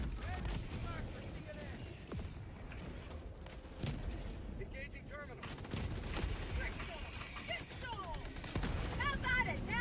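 A giant autocannon pounding away in Helldivers 2, dense repeated firing and rumbling explosions in a chaotic battle, with someone talking over the din.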